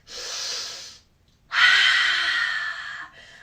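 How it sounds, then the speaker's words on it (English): Two long, deep breaths during a children's yoga session: a steady inhale of about a second, a brief pause, then a longer breathy exhale, close and clear with no talking. "We're gonna take a deep breath and grow 1 inch."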